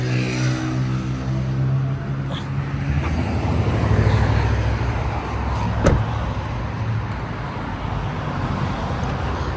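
A car idles and creeps along at low speed while it is parked in Saudi Arabia, a steady close engine rumble with faint traffic around it, a brief rise in revs and a sharp knock near the end.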